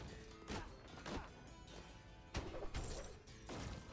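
Explosions in the video game Rogue Legacy 2 during a boss fight burst out in a rapid series of sharp, crashing blasts, several distinct hits in quick succession and loud throughout.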